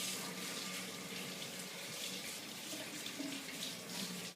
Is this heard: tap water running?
yes